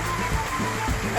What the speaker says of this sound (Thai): ได้ยินเสียงน้ำตกนะคะมาจากทะเลสาบนะคะ